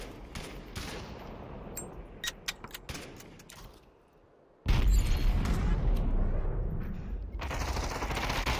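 Gunfire in a multiplayer shooter game: a scatter of sharp cracks at uneven intervals, a quieter lull, then a sudden loud burst of heavy continuous firing and rumble that keeps going to the end.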